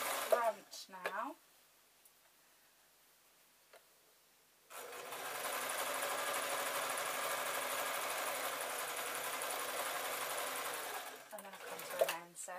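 A home sewing machine runs steadily for several seconds stitching baby or toddler shorts, stopping abruptly after brief quieter handling sounds, with someone talking before and after.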